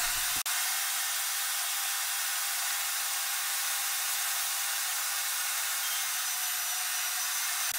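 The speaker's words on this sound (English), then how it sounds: "I'm drilling the holes that the upper arm mounts on." A drill boring holes through the clamped left and right wooden sides of a 2x72 belt grinder frame, a steady loud whirring hiss that runs nearly unbroken after a brief start.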